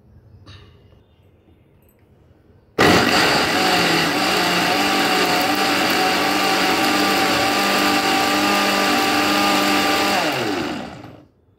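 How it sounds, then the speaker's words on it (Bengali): A mixer grinder blends chopped carrots for juice, switching on abruptly with a loud steady whirring drone that holds for about eight seconds before winding down, after a brief quiet stretch at the start. "এবার মিক্সারতে দিয়ে জুসটা বানাবো।"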